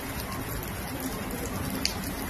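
Steady rain falls outside a home in Maharashtra during the monsoon, a continuous even hiss with faint scattered drops and no voices, holding at a constant level throughout.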